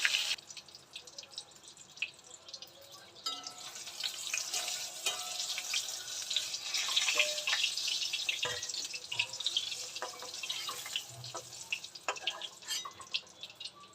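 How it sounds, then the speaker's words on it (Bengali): Pointed gourd pieces sizzle in oil with irregular pops and crackles, moderately loud and close, continuing without speech. "এই যে পটল ভাজা হয়ে গেছে"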